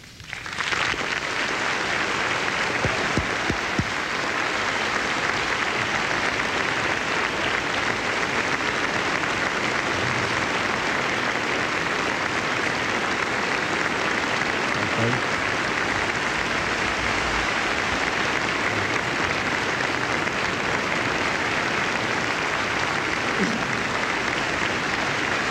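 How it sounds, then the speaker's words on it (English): Steady, dense applause from a large debate-hall audience fills the whole stretch as Governor Bush and Vice President Gore walk onstage for the October 3, 2000 presidential debate, loud and continuous without pause. "they will applaud as we welcome the two candidates, Governor Bush and Vice President Gore"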